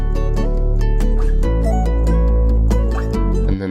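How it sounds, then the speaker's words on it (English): A guitar loop from a beat now carries a deep added bass line underneath, plucked melodic notes over heavy low tones changing pitch partway through, loud and steady until a sudden cut near the end. "And I added the bass."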